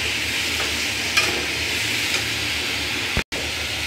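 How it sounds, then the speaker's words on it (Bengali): Chili, turmeric, ginger and garlic fry in a curry pan for an eggplant curry, a loud, dense, continuous sizzle up close with a couple of faint stirring taps and a brief dropout near the end. "এখন সব মরিচ হলুদ একটু আদা রসুন দিলাম"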